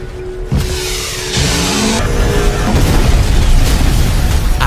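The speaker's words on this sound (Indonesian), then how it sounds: "Lalu, psikopat terlihat seperti akan meledak." A psychopath explodes in a video game: a sudden loud boom bursts out, then gives way to a dense, sustained roar of rumbling blast noise and debris.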